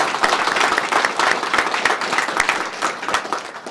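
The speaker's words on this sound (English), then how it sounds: "give him a round of applause for that" A crowd applauds at a sheriff's department retirement ceremony, a full, steady burst of many hands clapping close by.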